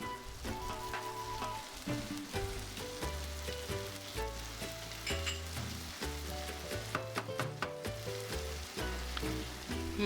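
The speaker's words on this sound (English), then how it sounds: "then I'm adding the crushed tomatoes together with the tomato paste" Crushed tomatoes and tomato paste sizzle in a hot pan, a soft continuous frying crackle under steady background music.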